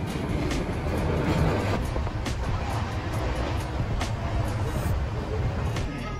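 Inside a passenger train travelling from Chandigarh to Delhi: a steady, loud rolling rumble with faint rhythmic clicks, continuous throughout.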